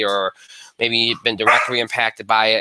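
A dog barks and yips in the background, with sharp intermittent bursts, while someone talks steadily over it.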